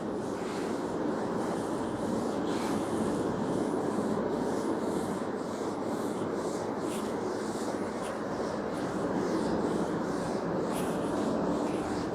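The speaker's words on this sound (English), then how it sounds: "So I have to clean the board." Teacher wiping a classroom board clean, a steady close rubbing hiss that runs continuously with faint rhythmic strokes.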